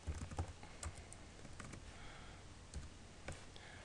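Bursts of keystrokes on a computer keyboard, typing in short quick clusters with pauses between, close and fairly quiet against a faint room hiss.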